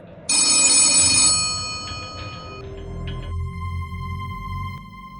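An old green 1970s rotary telephone rings once with a loud, close metallic bell burst that cuts off and leaves a humming, fading ring-down tone over low room rumble.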